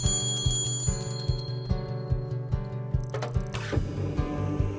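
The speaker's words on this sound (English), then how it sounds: "The teacher rings a bell, and that starts the quiet time session." A teacher rings a bell in a school classroom to begin a meditation quiet-time session, giving a series of evenly spaced, ringing metallic strikes with lingering tones, followed by a brighter cluster of rings near the end.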